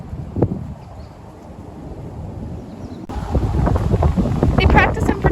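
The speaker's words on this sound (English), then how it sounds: "Oh, the wind." Outdoors, wind buffets the microphone in a low, rumbling roar that starts abruptly about three seconds in and stays loud to the end, while people talk over it.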